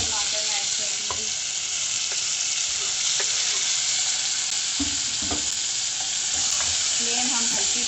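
Tomatoes and green chillies frying with browned onions for a spicy tomato chutney, a constant close sizzle broken by scraping stirs and light utensil knocks against the pan.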